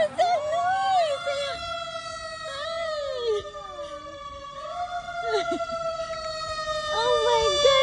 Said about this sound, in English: Is there a fire truck coming?